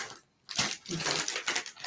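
Scissors snipping open a bag of salted cashews, a brief silence then a burst of crisp crinkling plastic and cutting sounds, close and fairly loud, with no talking.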